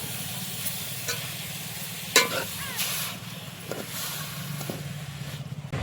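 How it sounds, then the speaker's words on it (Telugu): Grated beetroot frying in ghee for beetroot halwa while being stirred, a steady low sizzle with scattered scraping clicks of the spoon against the pan, close and continuous with no talk. "నెయ్యిలో ఈ తురుముకున్న బీట్రూట్ వేసుకున్నాం కదా ఫ్రెండ్స్. ఇప్పుడు ఒకసారి ఇలా బాగా కలుపుకొని పెట్టుకోవాలి."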